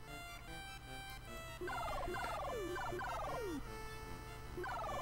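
Squawking bird calls in the retro video game Dr. Jekyll and Mr. Hyde, a run of descending electronic chirps in quick bursts over a constant buzzing game tune.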